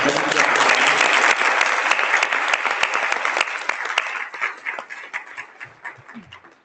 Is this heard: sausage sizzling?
no